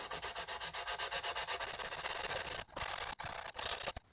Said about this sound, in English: I'm going to sand it as smooth as I can